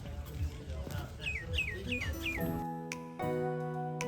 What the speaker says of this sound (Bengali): এরকম শান্ত পরিবেশে পাখির আওয়াজ শুনতে কার না ভালো লাগে।